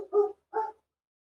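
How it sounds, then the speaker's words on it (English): A dog barks twice in quick succession, two short mid-pitched woofs at moderate distance followed by silence. "I apologize for the dog in the background."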